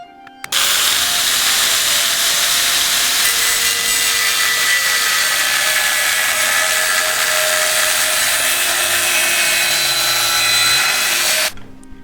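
A 5083 aluminium sheet being cut with a power tool to make a patch for a motorcycle frame repair, a loud, continuous high-pitched grinding screech that starts abruptly and stops cleanly after about eleven seconds.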